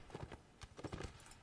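Horse hooves clip-clopping in the video game Mount and Blade during a multiplayer line battle, an irregular run of soft close hoof knocks at a walking pace, faint and without talk.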